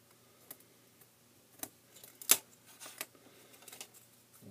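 A small part for a scratch-built Spacewalker model is being cut. Quiet, sparse clicks and snips come close up, with one sharper crack near the middle.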